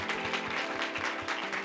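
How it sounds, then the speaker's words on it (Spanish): Dense audience applause at a book presentation during the Guadalajara book fair, many hands clapping at once in a steady, moderately loud roar with no break. "Si me regalan un fuerte aplauso para iniciar"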